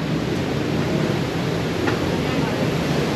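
Rushing water of a waterfall in Banff National Park, Alberta, heard from near a cave, a loud, steady, roaring wash of noise with no break.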